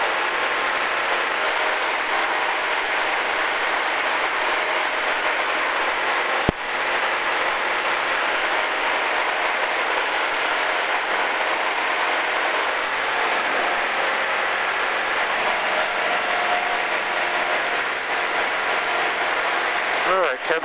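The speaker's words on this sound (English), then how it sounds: "I want to run the engine hard, but I'd like to keep it at around 32, 3300 RPM" A Sonex light aircraft engine runs hard at about 3300 RPM during a first flight, a loud, unbroken broadband drone heard from inside the cockpit, steady for the whole stretch with one sharp click partway through.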